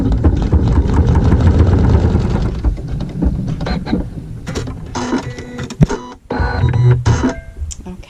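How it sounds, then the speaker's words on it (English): A sewing machine runs a tack-down stitch on fabric for a checkerboard triangle quilt block, a loud, close, rapid mechanical whirring that slows and turns choppy before stopping, followed by a short burst of stitching. "now I'm going to sew a tack down stitch, still using my embroidery thread or my sewing thread"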